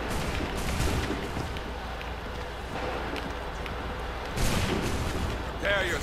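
Musket volleys and battlefield din from the video game Assassin's Creed 3 during a Redcoat attack, a loud, continuous roar of gunfire with heavier bursts near the middle and end.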